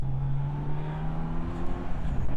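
A 2021 Kawasaki Z900 motorcycle held in third gear up a country lane, engine droning at a steady high pitch with strong harmonic whine, close and loud, without speech.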